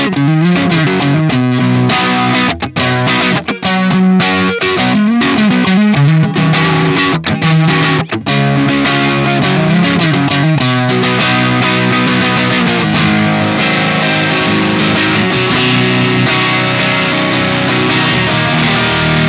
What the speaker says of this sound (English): I'm playing a real 64 pre-CBS Stratocaster here